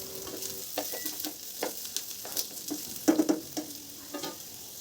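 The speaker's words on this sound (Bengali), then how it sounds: "1 মিনিট তেলে এটাকে ভালো করে ভেজে নেব।" Chopped raw papaya fries in oil with a soft, steady sizzle, stirred with occasional clinks and scrapes of a utensil against the pan.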